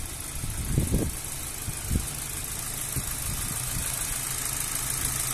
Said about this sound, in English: Engine sounds very nice and smooth.